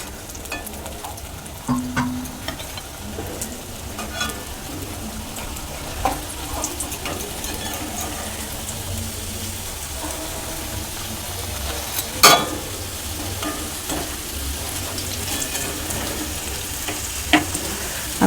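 Vegetarian cabbage chops fry in hot oil, producing a soft, even sizzle and bubbling close by, broken by a few sharp clicks and knocks from utensils against the pan.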